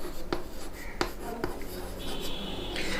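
Writing the number 967 during a lesson on numbers, short scratchy pen or marker strokes with a few sharp taps, heard close with a faint voice underneath.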